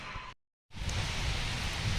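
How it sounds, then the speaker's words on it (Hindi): Steady rain falls outdoors at a shelter, a dense broadband hiss that cuts out briefly near the start and then resumes, loud and continuous with no voices. "बारिश हो रही है"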